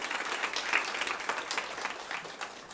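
Brief burst of audience clapping for a presenter named Krista after a JavaScript talk, moderately loud and uneven, fading slightly by the end.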